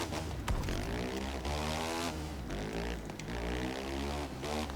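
Motorcycle engine in the racing game The Crew 2, revved in short throttle blips with buzzing harmonic tones rising and falling over several seconds, steady and close.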